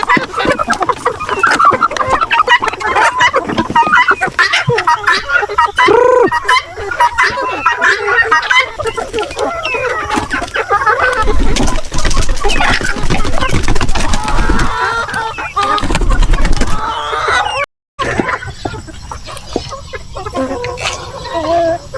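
Heritage and native chickens cluck excitedly at feeding time on a farm, a loud, busy chorus of clucks and squawks close to the microphone throughout, with a brief dropout near the end.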